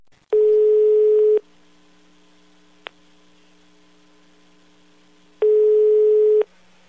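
A Brazilian phone line ringing during a prank call: two long steady ring tones about five seconds apart, each lasting roughly a second, over a faint constant line hum with a small click between them.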